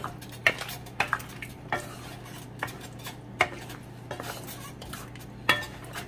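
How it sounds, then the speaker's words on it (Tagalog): Peanut butter being stirred into goat caldereta in a pot, a spoon scraping and clinking against the metal in irregular knocks over a soft sizzle. "Mix natin yung peanut butter natin, kakitchen."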